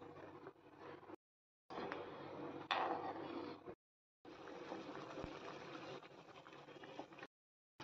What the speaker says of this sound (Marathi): आता आपण ह्यात हे चिरलेले कट केलेले पीस टाकून घेऊया आणि 10 मिनिटासाठी आपण हे शिजू देणार आहोत